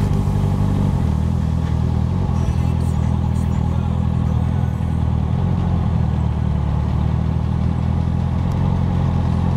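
Several motorcycles idle close by after stopping, a steady low rumble that holds throughout with a slight dip near the start and faint background noise.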